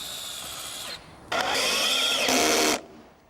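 A power drill drives screws into an interior wall top cap, with a short whine, a brief pause, then a longer, louder high-pitched spin as the screw seats, close by.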